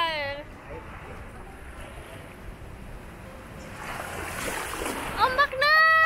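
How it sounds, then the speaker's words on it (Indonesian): Sea waves wash and hiss in a broad, steady rush, with wind noise and small splashes that swell louder near the end. Brief high voices cut in at the close. "Ombak"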